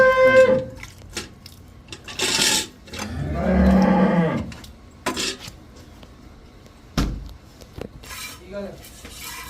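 On a Punjab farm with buffalo and cows for sale, one long, deep low from a bovine rises and fades near the middle. Scattered metallic clanks of pots and utensils and other brief farmyard knocks come and go around it.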